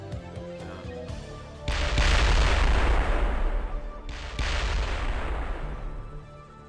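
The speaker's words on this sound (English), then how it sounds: "First explosion. This should also set off the mine over there." Loud booming explosions from the video game Heart of Attack, two heavy blasts a couple of seconds apart, each followed by a long rumbling decay, with no talk over them.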